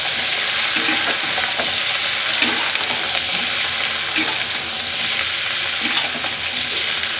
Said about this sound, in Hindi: और इसको अच्छे तरीके से मिक्स कर देते हैं